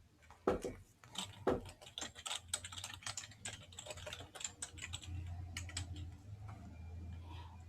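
Rapid clicks of typing on a computer keyboard while an address is entered, close and fairly quiet, in irregular bursts of keystrokes with a low hum underneath.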